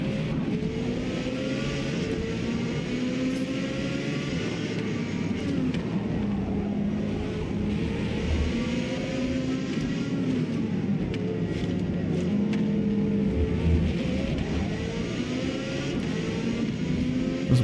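A Porsche 918 Spyder hybrid accelerates away out of a corner, its engine note rising and shifting in pitch over a steady, loud drone with no voices.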